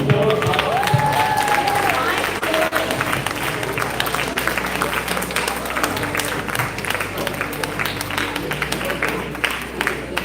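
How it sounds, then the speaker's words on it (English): A live magic show audience breaks into applause, a dense, sustained wash of clapping filling the room, with some voices and cheering mixed in near the start. "everybody to please show their gratitude with a big round of applause"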